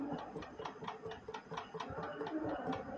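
A Honda CRF 150 engine runs with a steady, rapid valve clicking, the rocker tapped by finger giving rhythmic ticks at about four per second over the even engine drone, close up and fairly loud.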